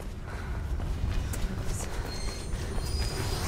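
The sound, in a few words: train approaching in Mirror's Edge video game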